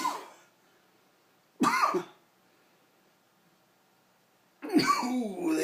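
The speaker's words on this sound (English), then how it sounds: "Ooh, this is a hard sniff." A person takes a hard, forceful sniff of fine, dry snuff, giving several short, close bursts of breathy sniffing and throat noise separated by quiet pauses.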